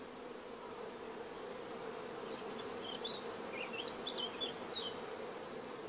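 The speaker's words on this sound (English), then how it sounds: "many young bees are emerging in the starter colony" Honey bees hum inside a queen-rearing starter colony as young bees emerge, a constant close buzzing drone, while a bird chirps a few quick, thin calls in the background midway through.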